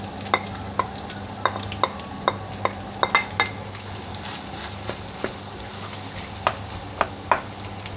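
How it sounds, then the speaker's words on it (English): Onions frying in a pan for Filipino sisig made with pig's head, a soft continuous sizzle under sharp, evenly spaced utensil taps and scrapes against the pan, close by and without speech. "I'm gonna add the onion"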